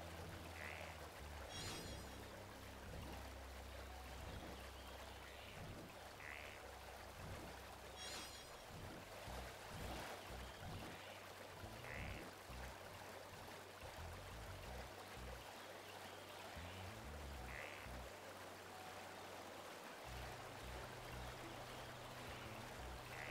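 Steady rushing waterfall in Xenoblade Chronicles Definitive Edition, a continuous quiet wash of water with faint game sounds and low tones layered over it.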